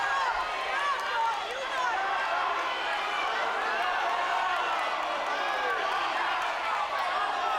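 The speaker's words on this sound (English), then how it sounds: "It's a big crowd tonight, raucous crowd" A big, raucous crowd fills a high school gym during a wrestling match, a dense steady roar of many voices with shouts rising out of it, continuous and loud throughout.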